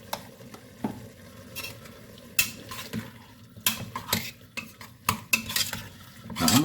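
Ground hamburger meat for black bean chili browning in a pan, with steady sizzling and repeated scraping strokes of a utensil against the pan, some sharp metallic clinks, close and fairly loud, no talk.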